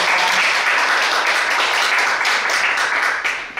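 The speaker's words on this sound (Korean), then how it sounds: "박수 한번 부탁드립니다." Sustained audience applause at an awards or dissemination ceremony for a deafblind support center, loud and dense clapping filling the whole stretch without a break before tapering slightly at the end.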